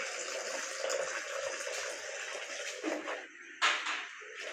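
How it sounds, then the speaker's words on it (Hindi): Water poured from a container into a cleaner mixture for a homemade hard-surface bathroom cleaner, a steady close splashing stream that runs throughout with a brief louder gush near the end, no voices. "पहले हम लोग 300 ग्राम पानी डालते हैं।"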